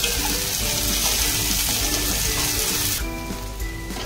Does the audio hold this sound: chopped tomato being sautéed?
yes